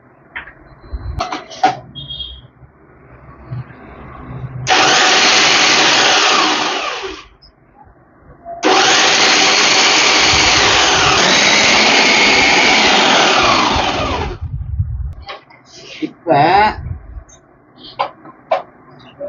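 A mixer grinder grinds a batch of nuts for a drumstick leaf laddu in two loud whirring bursts, a short one then a longer run, with clattering jar handling before, between and after.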